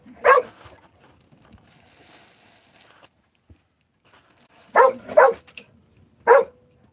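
Chico the dog lets out short bursts of barking: a single bark, then a quick double bark, then one more, loud and close with quiet pauses between.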